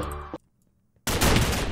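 Gunfire from a shotgun in a Minecraft game, a loud dense burst that starts abruptly after a short silence and keeps roaring to the end, with no talk over it.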